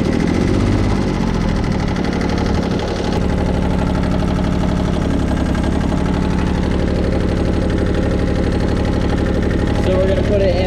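A go-kart engine runs steadily at idle with a low, even chug throughout, loud and close, while a voice speaks over it near the start.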